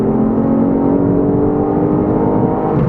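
A 2018 Ford Fiesta ST's three-cylinder engine revs steadily under load with a low, throbbing drone around 3,000 rpm, close and loud, holding a continuous pull without pause.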